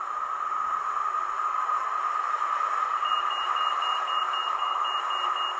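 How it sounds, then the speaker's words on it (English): A model railway sound module plays a pedestrian crossing's steady electronic tone over constant street traffic noise, with a faint higher beeping pattern joining partway through. "Pedestrian crossing, perhaps."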